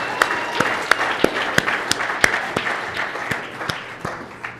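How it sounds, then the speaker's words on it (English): Sparse clapping from a small audience at a live weekend press conference, distinct individual claps in an irregular rhythm over a murmuring room. "But can we give a massive round of applause to Sydney,"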